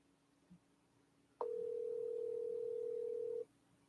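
Steady telephone dial tone heard while a radio call-in host puts a caller on hold to merge in another line, starting abruptly after a short click and holding for about two seconds before cutting off, with no talk over it.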